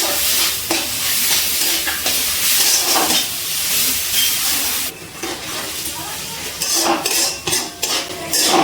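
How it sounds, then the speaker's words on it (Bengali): Spice masala sautéed over a low-to-medium gas flame for an echor chingri (jackfruit and prawn) curry, with steady sizzling and a spoon scraping and clinking against the pan, the frying briefly dipping midway before the stirring picks back up. "গ্যাসের ফ্লেমটা লো টু মিডিয়ামে রেখে মশলাটা খুব ভালো করে কষিয়ে নিচ্ছি"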